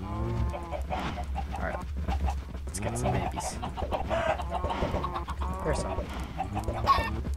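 Chickens cluck and squawk around a chicken farm in the video game Minecraft, several birds close by in a busy chatter while a person talks briefly over them.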